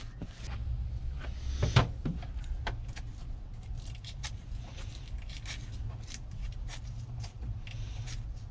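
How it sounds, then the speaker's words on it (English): Wires being cut during a Jeep Wrangler TJ door jamb switch modification, giving a few sharp snips and small clicks over a steady low hum, with no talking. "So let me cut these wires"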